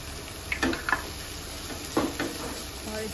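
Chopped onion and finely shredded cabbage sizzle steadily in a pan, with a few soft scraping stirs breaking through the continuous frying hiss.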